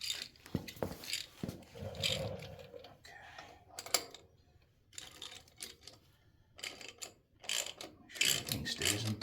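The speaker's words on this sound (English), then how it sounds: "I'll go grab my ratchet." Ratchet worked on a 2018 Harley-Davidson Street Glide Special during a compensator replacement gives irregular bursts of quick mechanical clicking and clattering, with quiet stretches between turns.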